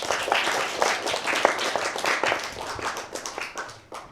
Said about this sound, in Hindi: आप सब के लिए भरपूर तालियां।